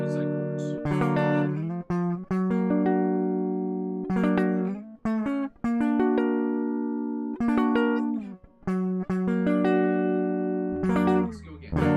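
A guitar strums chords in bursts, each stroke ringing with clear harmonics, separated by brief pauses and muted scrapes, loud and close.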